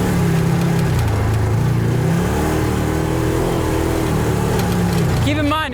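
A Hellwig Operator Ford F-350 truck drives along in steady, loud engine drone that holds for several seconds, its pitch shifting slightly, then breaking into a brief higher whine near the end; people talk over it.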